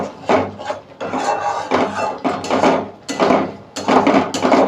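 A spoon stirs paneer butter masala in a pot with repeated scraping, clattering strokes against the metal. About seven bursts come in an uneven rhythm, close up and fairly loud, with no voice over them.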